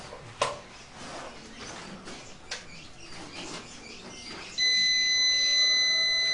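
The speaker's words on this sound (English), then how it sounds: "What happens when you put lighting plus the refrigerator and others? What happens? It sounds an alarm." An alarm on an overloaded home solar power system, running lights and a refrigerator together, starts abruptly near the end as a steady, loud electronic tone that holds without a break, following a stretch of quiet, scattered background noise.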